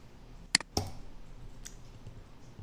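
Two sharp clicks close together near the start, a computer mouse's right button used in Mastercam CAD software, followed by a faint hum and one softer click.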